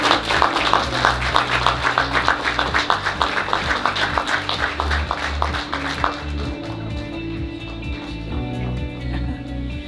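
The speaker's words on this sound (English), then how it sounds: "Give a big round of applause to Maria, please." An audience at an awards gala dinner applauds with dense, steady clapping that is loud at first, then thins out and fades over the last few seconds into room murmur.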